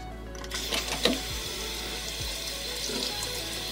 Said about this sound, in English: I'm gonna just wash my hands.